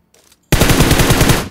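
Automatic gunfire from the mobile battle royale game PUBG Mobile bursts in suddenly after a brief faint sound, a loud, dense rapid-fire stream that runs for about a second.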